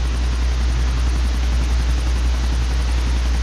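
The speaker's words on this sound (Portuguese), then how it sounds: "Ih, um helicóptero." A helicopter in GTA The Ballad of Gay Tony, a loud continuous rotor drone with a deep steady thrum and a rapid fluttering beat, close and unbroken, with no talking.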